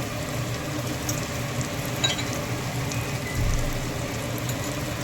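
Spices such as Kashmiri chilli powder, garam masala and turmeric, with peanut powder, roasting in hot oil for chhole, giving a steady close crackling sizzle with a brief louder burst near the end.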